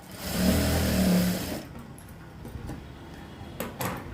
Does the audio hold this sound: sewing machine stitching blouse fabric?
yes